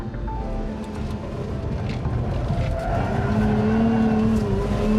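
Tires squeal and skid as a sports car drifts out of a corner on a track, the engine roaring underneath while the rising screech grows louder toward the end.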